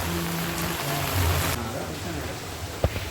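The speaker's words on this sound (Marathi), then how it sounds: "पाऊस बघा किती जोरात पडतोय आता इकडे" Heavy rain pours down in a village during the Dasara festival. It makes a dense, steady hiss throughout, with faint voices in the background.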